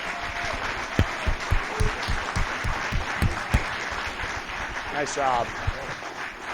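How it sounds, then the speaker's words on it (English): A county audience claps for its commissioners at a State of the County event. Hand claps ring out close by over a steady crowd wash, with a person talking briefly through the applause. "Can we get a big hand for our commissioners, please?"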